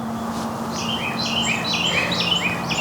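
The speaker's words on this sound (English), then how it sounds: "That little bird sure is loud," A small bird sings outdoors in a garden, firing off a quick run of bright, high chirps and trills that grow busier toward the end over a soft, steady background hum.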